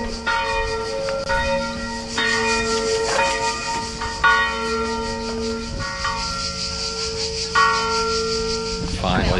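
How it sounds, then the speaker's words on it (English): Church bells in Croatia ring in repeated, resonant strikes, overlapping and sustained over a soft background hiss, with no clear talk. "The bells are constantly ringing."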